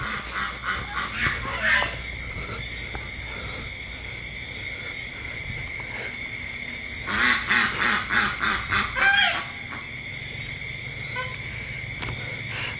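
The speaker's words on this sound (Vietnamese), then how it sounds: "Nhìn là mấy con vịt các bạn" A group of ducks quacking outdoors, with one short burst of rhythmic quacks early on and a louder run of repeated quacks in the middle, over a steady background hum.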